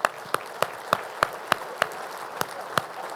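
Sparse, distinct hand claps ring out at a commercial real estate forecast event as a small audience applauds elected officials, about ten sharp claps in loose rhythm over a quiet room.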